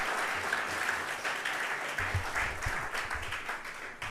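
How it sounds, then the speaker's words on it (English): Audience applause at a research conference, steady broadband clapping from a crowd that holds for about four seconds at a moderate, even level. "Let's give some applause for those who did their."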